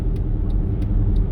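A vehicle tows a loaded trailer on the highway, producing a continuous low road rumble and engine drone at steady volume.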